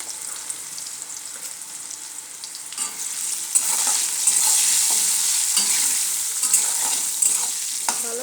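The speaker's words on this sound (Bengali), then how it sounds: "তো তেলটা আমার গরম হয়ে এসেছে, এখন আমি আলুটা ভেজে নেব।" Potatoes frying in hot oil, a steady close sizzle with bursts of crackle and occasional stirring scrapes, growing slightly louder partway through; no voices.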